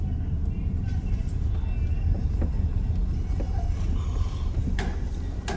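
A car drives along with a low, steady engine and road rumble and faint mechanical clicks and rattles inside the cabin, while someone talks over it.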